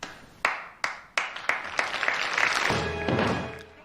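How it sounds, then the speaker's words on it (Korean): In a theatre in Elizabethan London, a few isolated claps ring out with pauses between them, then speed up and swell into fuller audience applause as more people join in. "너무 큰 감동에 휩싸인 관객들은 뒤늦게 박수를 치기 시작합니다."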